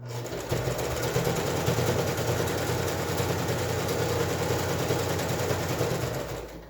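A sewing machine runs steadily while stitching the open bottom seam of a pleated fabric face mask, a continuous close mechanical whir with a low rhythmic hum that holds evenly throughout.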